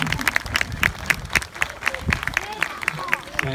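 Scattered clapping from a small audience follows a children's storybook reading, with sparse uneven claps and some voices and chatter mixed in.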